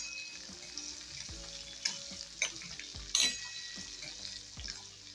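Green chillies coated in gram flour fry in hot oil, giving a soft, steady sizzle with a few sharper crackles and spatters, close by and with no talking.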